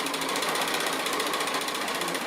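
Sewing machine stitching a face mask fabric seam, a loud continuous rapid mechanical chatter that holds steady throughout.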